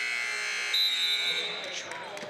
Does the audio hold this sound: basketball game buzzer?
yes